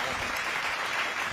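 Audience clapping at a Hindi poetry recital, a dense, steady burst of applause filling the whole short moment at moderate loudness.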